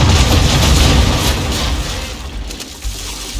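Ship cannons aboard a sailing vessel firing on an enemy ship in Assassin's Creed 3, a loud sustained roar of overlapping booms that rumbles and fades slightly over a few seconds.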